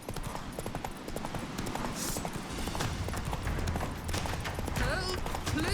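Roach, a horse in The Witcher 3 video game, gallops with steady, rapid hoof clip-clops that run continuously under battle noise and shouted voices.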